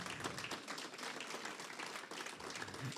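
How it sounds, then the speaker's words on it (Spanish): A church congregation claps for God during a service, a moderately quiet, scattered patter of many hands with uneven rhythm, somewhat distant. "da el mejor aplauso que puedas para Dios"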